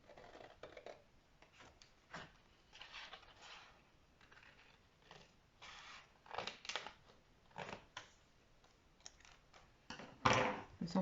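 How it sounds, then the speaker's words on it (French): Scissors snip through a paper label for a scrapbooking greeting card, giving a run of short, fairly quiet cuts in an uneven rhythm with brief pauses, close up and without any talking. "Il faut les découper, celle-ci. Je vais couper un peu plus large."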